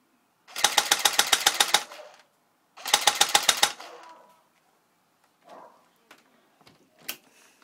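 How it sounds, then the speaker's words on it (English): An MK-74U gun fires two loud full-auto bursts at a birdhouse outdoors, each a rapid rhythmic string of about ten sharp shots, followed by faint scattered knocks and a brief sharp clack. "Now I'm going to go to full auto, shoot the birdhouse."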